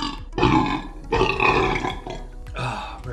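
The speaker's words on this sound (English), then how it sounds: "Let's get some more burps." Loud, drawn-out burps from a burping contest, three long belches in quick succession, each rough and guttural with roaring growl tones, heard alone with no talk.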